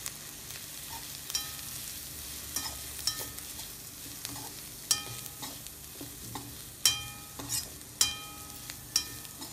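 Bitter gourd stir-fry with sugar is stirred in a pan under a soft, continuous sizzle, while a spatula scrapes and clinks against the metal in irregular, sharp taps that grow louder toward the end.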